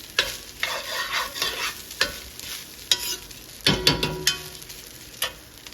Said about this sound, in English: until the rice is nice and like fried off in the oil.